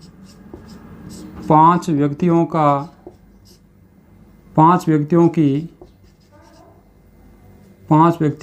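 Marker or chalk writing on a board during a maths lesson on averages, a faint scratchy scrawl running under a teacher's voice that speaks in several short bursts.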